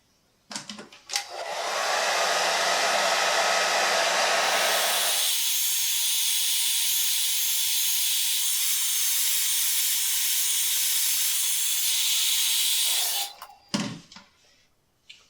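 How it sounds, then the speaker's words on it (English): A hair dryer blows on hair styled with balm while an English mustache is being shaped, a loud steady hiss that switches to a lower setting partway and then cuts off, with handling clatter at the start and end. "So I'm going to hit that with the hair dryer."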